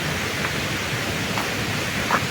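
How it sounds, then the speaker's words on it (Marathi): Heavy rain pours down in a steady, dense roar of hiss with no breaks, loud and close. "पाऊस जोरातला आला आहे"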